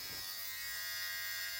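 An electric shaver buzzes steadily and close up during shaving at home, a continuous bright hum with no talking.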